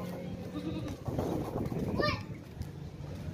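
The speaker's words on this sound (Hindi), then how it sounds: "बहुत ही ज़बरदस्त बेहतरीन बकरी है, ऊंची लंबी बड़ी बकरी है" A big, tall breeding goat of a good line, offered for sale, bleats once in a short wavering cry amid a busy farmyard where people talk over it.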